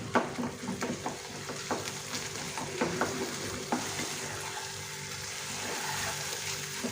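Gujia filling being stirred and dried in a hot pan over a low flame, with steady close sizzling and frying under repeated scraping strokes of the spoon, no talk.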